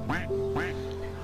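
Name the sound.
ducks quacking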